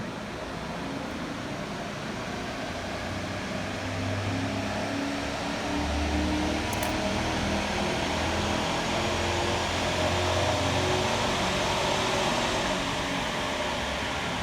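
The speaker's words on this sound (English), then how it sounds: "That's our chassis dyno that we have here at Parkland College." A chassis dynamometer runs with a steady mechanical roar, low droning hum and fan-like rush throughout, constant in a large college workshop.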